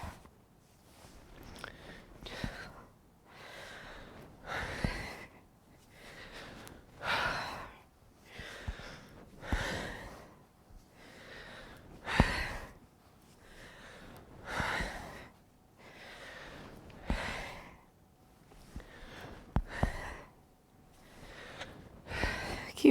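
Slow rhythmic yoga breathing in a hip-focused class, with audible inhales and forceful exhales repeating steadily about every two seconds, close and breathy, with occasional faint voice.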